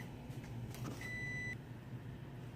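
Kitchen timer going off while whole wheat pita bread bakes: a single clear electronic beep lasting about half a second, fairly faint over a low background hum.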